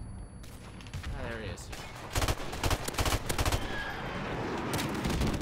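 Rapid bursts of automatic gunfire crackle through a Call of Duty Modern Warfare Remastered Domination match on the Bog map, dense volleys clustered in the middle of the clip while a player speaks briefly over the shooting.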